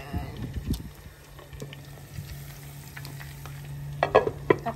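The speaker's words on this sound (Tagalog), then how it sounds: "Habang nagpiprito tayo dito" Food fries in hot oil with a steady low sizzle, broken by a few clinks and scrapes of stirring near the end.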